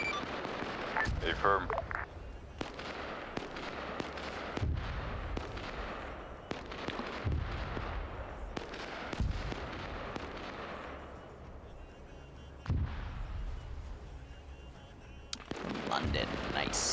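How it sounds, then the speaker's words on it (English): Large mortar barrage in a trench warfare video game, with heavy explosions thudding again and again across the clip, some near and loud, others farther off, while a voice speaks briefly over the bombardment. "Be advised, large mortar barrage coming in."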